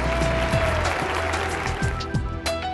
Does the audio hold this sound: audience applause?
yes